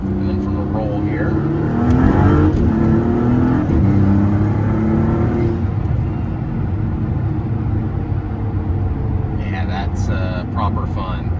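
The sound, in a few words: supercar accelerating from a roll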